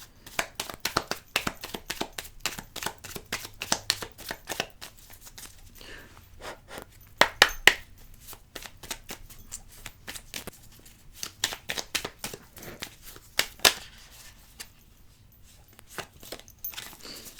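A deck of tarot cards is shuffled by hand during a reading, giving a close, steady patter of crisp card riffles and slaps with a few louder snaps along the way.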